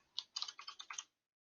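Quick bursts of keystrokes on a computer keyboard while text is entered, about half a dozen close, crisp clicks over roughly one second, then silence.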